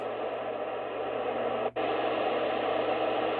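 Steady hiss of shortwave radio static at 4840 kHz on a GA800 loop antenna, with a faint, barely-there signal buried in it, one brief dropout midway.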